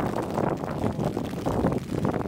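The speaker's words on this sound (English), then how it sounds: "Oh, it's windy as well." Wind blowing outdoors on a wet day in Stirling, Scotland, near Bannockburn High School: a constant, loud, low rumble and buffeting across the microphone, with no pauses.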